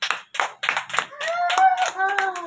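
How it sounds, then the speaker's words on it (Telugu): Young children at an anganwadi clap their hands in an uneven series of close, sharp claps, then voices join in singing over continued clapping. "Very good. క్లాప్స్ కొట్టండి."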